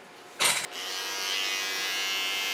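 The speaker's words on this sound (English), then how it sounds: "Coming to my small clipper again." A small electric hair clipper switches on with a sharp burst, then hums steadily and close while trimming hair in a short pixie cut.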